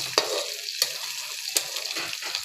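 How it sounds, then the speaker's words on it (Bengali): Whole dried red chillies crackle and sizzle in hot oil in a kadai, with three distinct spatula knocks spaced through the steady frying hiss and no talk. "শুকনো লঙ্কা গোটা শুকনো লঙ্কা দিয়ে ভেজে নেব"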